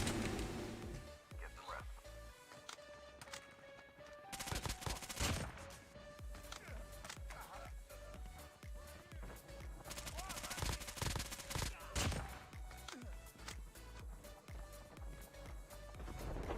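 Video game gunfire in rapid bursts and sustained automatic volleys, loud and close, with sharp cracks scattered through a busy mix of game sounds.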